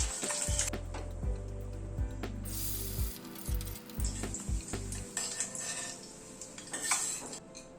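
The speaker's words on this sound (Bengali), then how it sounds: "ডিমগুলো হালকা করে ভেজে তুলে নিলাম।" Eggs frying lightly in hot oil in a pan, a steady sizzle with metal clatter of utensils and pan knocks over a low rumble early on.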